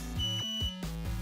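Arduino buzzer driven by a simple sketch gives three short, evenly spaced electronic beeps, close and clear with no talk.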